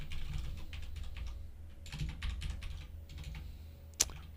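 Typing on a computer keyboard, a run of quick, uneven clicks and taps at close range, with one sharper key strike near the end.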